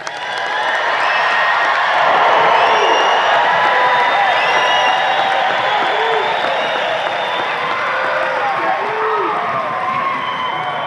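Large crowd at a 2025 commencement ceremony cheering, whooping and applauding graduates, a loud sustained roar of voices and clapping with shrill whistles and shouts throughout.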